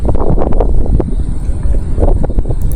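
Strong wind blowing at a river estuary during a fishing trip, loud buffeting rumble across the microphone with gusty swells and rustling, alone without talk.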